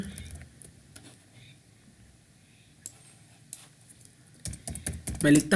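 Keystrokes on a computer keyboard enter a git command in Git Bash. They come as faint, scattered clicks at first, then a louder, quicker burst of typing near the end.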